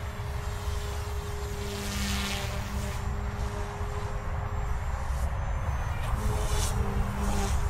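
A loud, steady high-pitched whine and buzzing drone of a GOOSKY Legend S2 RC helicopter's tail rotor, close and continuous, with a faint tonal hum.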